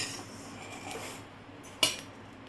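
Roasted sesame seeds are taken out of a pan, with soft scraping and rustling followed by one sharp metallic clink of utensil against pan, close up.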